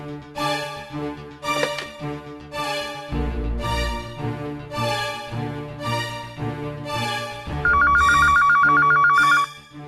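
A telephone ringtone chimes in a repeating melodic pattern over background music, fairly loud, with a sharper electronic ring pulse near the end and no talk.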